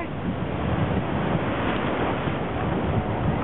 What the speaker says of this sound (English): Watch, you gotta catch these waves.